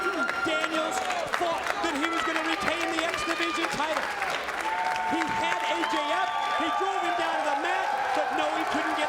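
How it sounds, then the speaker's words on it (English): A TNA wrestling crowd roars with sustained applause, clapping and cheering for AJ Styles and Daniels, loud and dense throughout, with a commentator talking over it. "Look at this crowd. You can sense the appreciation."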